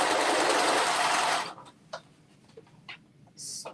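A sewing machine runs in one loud continuous burst while hemming the straps of an infinity wrap dress, then stops, leaving a few small clicks and handling noises and a short final whir.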